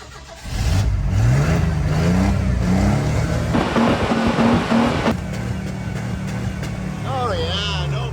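An old Subaru GL sedan engine with a Caravan interior cranks, catches and revs up, holding a loud close idle with rising and falling revs, while a voice talks over it.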